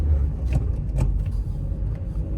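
A 32-year-old car's engine revs steadily and loudly while driving, a continuous low rumble with slight swells in throttle throughout.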